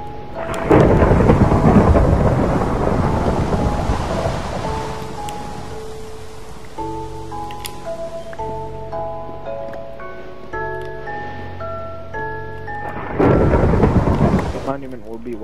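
Thunder and rain in the video game Minecraft: loud rumbling thunder bursts open and close the stretch, with steady rain hiss and soft game music tones in between.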